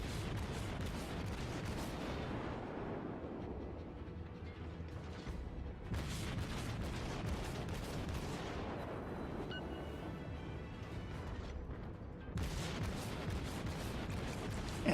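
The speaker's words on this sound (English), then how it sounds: "And I'm firing at him at 10 kilometers there." Kuma tier IV light cruiser guns firing in World of Warships, with repeated heavy booming salvos every few seconds, each blast decaying into a long rumbling tail.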